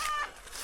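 A rooster lets out a single short cluck, close by and fairly loud, in a village farmyard.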